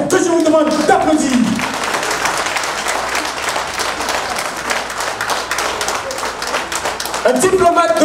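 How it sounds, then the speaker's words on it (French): Audience applause welcoming a senior French foreign-ministry official at a formal event, a dense sustained clapping that swells through the middle and fades toward the end, with voices briefly heard at the start and close. "M. Yves-Éric Aoussoubamé, que je vous demande d'applaudir."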